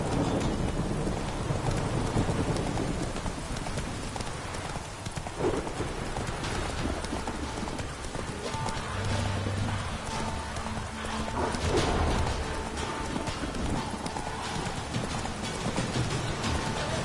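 Roach the horse gallops in The Witcher 3, steady hoofbeats clip-clopping throughout amid heavy rain and rumbling thunder, with the storm loud around the rider.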